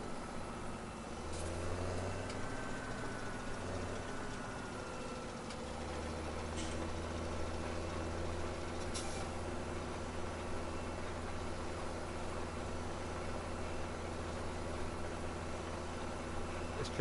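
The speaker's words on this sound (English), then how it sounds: "this tractor is pulling the seeder without any issues" A tractor engine pulling a seeder across a field in Farming Simulator 17, with an upgraded engine, a steady low drone with a slight shift in pitch early on, faint and continuous under a voice.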